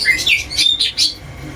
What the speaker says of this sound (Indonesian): Tapi ya berisik karena di sini tuh banyak burung.